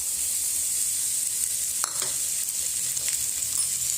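Raw mango pieces dropped into a hot tempering and stirred in a pan over low heat, a constant bright frying hiss with a few scrapes and knocks of the spoon.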